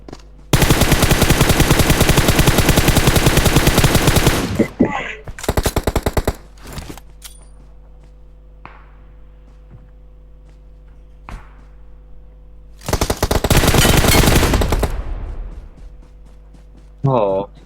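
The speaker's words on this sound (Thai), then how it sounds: "ยิงโหดจัดเลย ยิงไม่โดนเลย" Loud automatic gunfire from the battle royale shooter PUBG Mobile erupts in two long sustained bursts with a few short volleys between them, over a steady game background hum.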